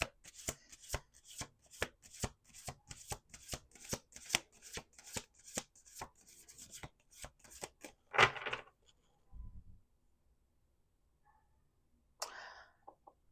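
A deck of tarot cards is shuffled in a steady run of crisp, rapid snaps for several seconds. A few soft taps and thumps follow, then quiet.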